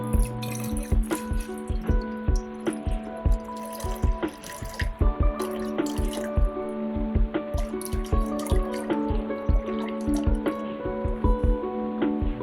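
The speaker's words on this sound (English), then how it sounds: "I'm going to add distilled water here." Distilled water pours steadily into a container, with a running splashing trickle and small drips and clinks throughout.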